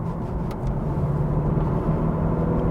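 Steady low rumble of a VW Golf R Mk7 engine heard from inside the car on a test drive, a constant droning cabin hum with road noise and no talking.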